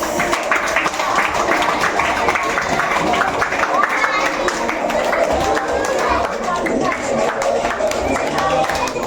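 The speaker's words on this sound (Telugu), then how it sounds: "clap clap" Children and adults clap together at a birthday celebration with dancing in a rural orphanage, steady dense applause running throughout amid crowd chatter and voices.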